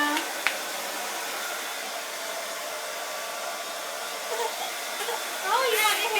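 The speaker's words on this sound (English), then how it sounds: "Okay, Mommy's gonna dry your hair now." A handheld hair dryer blows a steady, close, whooshing hum throughout while drying a child's hair indoors. A faint voice briefly surfaces near the end.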